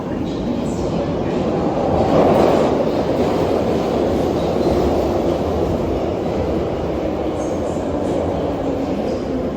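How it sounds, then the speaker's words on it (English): A London Underground train rumbles steadily and loudly nearby, a broad continuous roar with rattling, swelling slightly as it arrives at the platform. "Oop, train's coming."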